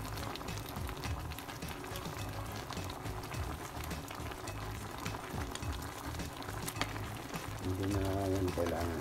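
A pot of Filipino ginataang crab and shrimp in coconut milk with squash boils steadily, a continuous bubbling simmer close by that grows a little fuller near the end.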